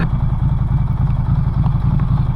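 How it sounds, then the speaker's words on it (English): A Norton Commando 961 SP motorcycle ticks over at idle nearby, a steady deep, lumpy pulsing with light mechanical clatter, running alone without voices. "Listen to it tick over. Sounds like a truck."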